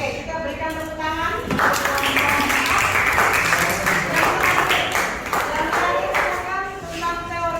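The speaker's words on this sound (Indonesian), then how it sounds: "kita berikan tepuk tangan." Applause from a class breaks out after a voice, a dense patter of clapping that carries on steadily for several seconds with talk mixed in.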